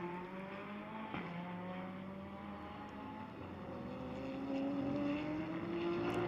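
GT race cars in a Blancpain GT World Challenge America race at Sonoma accelerate out of turn 11, engines rising in pitch through the gears with a sharp shift, heard from a distance and building steadily louder.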